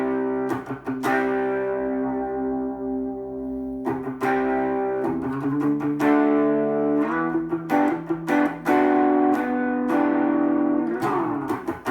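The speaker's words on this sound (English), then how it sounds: "for my rhythm tones, I stack it with the Scarlet Love, and it gives it a nice crunch with the 2 screamer circuit." An electric guitar plays rhythm chords through a stacked Scarlet Love overdrive with a two-screamer circuit, giving a crunchy distorted tone, with sustained chords and sharp picked stabs and no talking.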